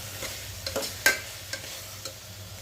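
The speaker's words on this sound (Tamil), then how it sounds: "அதையும் இஞ்சியோட பச்சை வடை போகிற வரைக்கும் நல்லா பெரட்டி விட்டுக்கலாம்." Ginger garlic paste fries in a pan for vegetable brinji and gets turned over with a spoon. A low sizzle sits under a few sharp scrapes and taps, one louder clack near the middle, and no one speaks.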